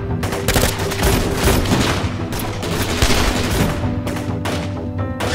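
Rapid gunfire rages in a dramatized firefight, dense overlapping shots and bursts of automatic fire sounding loud and continuous throughout, with no pause.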